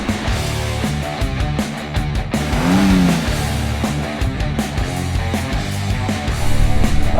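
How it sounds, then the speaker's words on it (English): A Porsche engine revs and pulls hard around a racetrack, its tone climbing and dropping through gear changes with a brief tire squeal, loud and continuous from start to finish. "let's go and see if I can do this while racing around a track in my Porsche"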